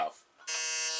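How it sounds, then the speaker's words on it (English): Game show buzzer sounding on a quiz round, a loud sustained electronic buzz that cuts in sharply after a brief tone and holds steady to the end. "Let me clear the buzzers."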